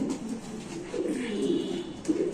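Pigeons cooing at a fancy pigeon farm, a steady low murmur of overlapping coos from several birds nearby, with no talking.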